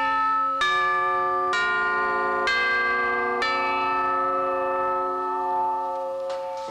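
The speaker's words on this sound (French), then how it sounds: "Les cloches-tubes." Tubular bells from the Radio France percussion collection are struck four times in slow succession, each strike ringing out bright and sustained, with a faint fifth strike at the end.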